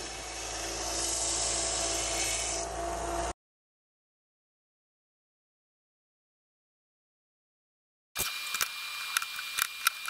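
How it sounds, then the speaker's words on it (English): A small belt sander shapes the tip of a wooden sword cut from a 2x4, a loud steady whirring grind for about three seconds, followed by silence and then a stretch of clattering workshop sound. "I took my sword to my small belt sander to shape the tip"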